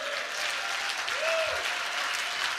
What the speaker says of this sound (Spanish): Démosle un aplauso más grande a nuestro Señor.